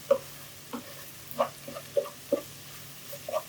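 A spatula stirs and scrapes masala with garam masala in a pan for paneer butter masala, about eight distinct strokes against a faint low sizzle.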